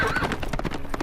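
Horse hooves clip-clopping quickly in the Game of Thrones Telltale video game, a short burst of close, rhythmic hoofbeats mixed with a whinny, with a faint voice underneath.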